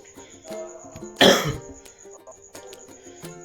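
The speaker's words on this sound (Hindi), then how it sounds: "खांसी हो रही है" A single sharp, harsh cough erupts close to the microphone amid quiet background sounds, then fades away.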